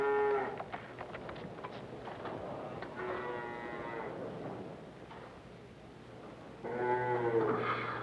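Dairy cows on a farm moo in several long, deep calls, one near the start, another mid-clip and a loud one near the end, over steady low background hum.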